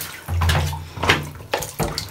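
Water splashes and pours in bursts from a basin after bathing a Pixie-bob kitten, with a low rumbling draining sound close by, stopping and starting a few times.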